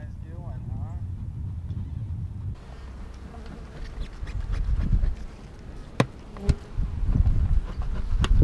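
Bees buzz in the yard outside a house where the hives are visited, a low continuous hum with a few sharp clicks and bumps, growing busier partway through.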